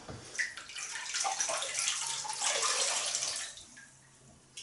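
Running water splashes steadily as hands rinse a face at a sink before a shave, a close, continuous wet rush that swells and fades over a few seconds with no talk.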